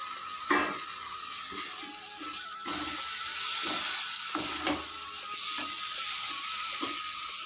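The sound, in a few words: fried potatoes added to sizzling fish curry in pan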